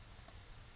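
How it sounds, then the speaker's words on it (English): Two quick, faint computer mouse clicks come a fraction of a second apart against a quiet background with a low hum. "Go here, copy this answer. Okay, go here and click reply."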